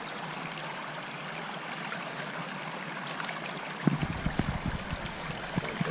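River water runs through a gold-panning sluice on the Ticino, a soft steady stream murmur that turns into closer, louder splashing and gurgling bursts partway through.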